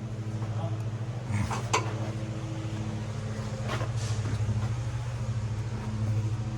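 A square body truck engine idles with a steady low rumble while the throttle is briefly opened, giving a couple of short revs; someone speaks over it.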